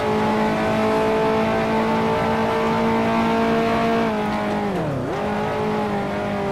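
A 1955 Formula One car in Grand Prix Legends, racing at the British Grand Prix, holds a loud, sustained engine whine, then drops sharply in pitch during a gear change before climbing again, close and alone.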